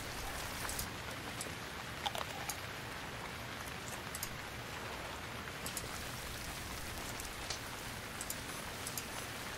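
Steady rain falls in the survival video game Stranded Deep, a continuous soft hiss with scattered crisp droplet ticks, with no voices over it.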